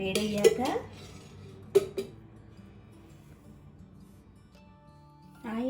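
A small kadai clanks onto a stove, with a few sharp metallic knocks and clinks up close, followed by quiet and a soft pour of oil near the end.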